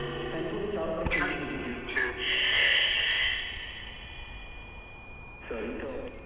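Electronic temperature sensor alarm tones sound in a few bursts, with a sustained high shrill beep in the middle and a lower tone returning near the end.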